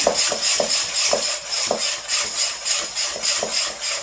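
Sugar and eggs being mixed in a bowl for giant chocolate chip muffins, a utensil knocking the bowl in a steady, quick rhythm of roughly two strokes per second, close and fairly loud with no talking.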